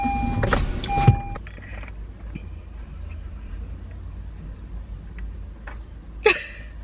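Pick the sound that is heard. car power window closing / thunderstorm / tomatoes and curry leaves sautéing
car power window closing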